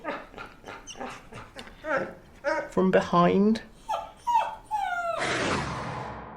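Dogs whimper and yip in a domestic sitcom scene, short high whines and yelps scattered among people's speech, ending in a louder burst of noise.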